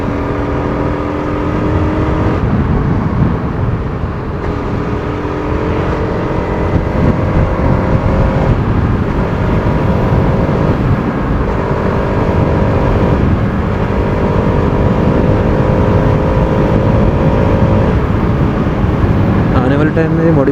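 A Bajaj Pulsar RS200 motorcycle on a morning ride, its raw engine droning loud and close throughout, with the pitch rising and falling steadily through gear changes.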